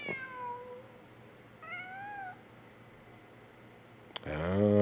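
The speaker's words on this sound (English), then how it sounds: "Blame it on the cat. Just a cat." A cat in the video game Genshin Impact gives two short, clear meows a moment apart, followed by a sudden burst of louder game sound at the end.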